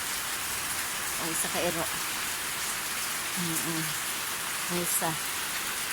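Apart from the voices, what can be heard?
rain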